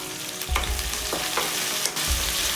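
Okra frying in a pan with three green chillies, a steady hiss of oil with a few spatula scrapes and stirs, close and fairly loud, no voices.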